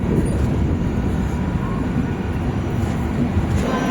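A Duronto Express sleeper train stands waiting for a signal at Agra Cantonment, giving a loud, steady, broad rumble of railway noise throughout.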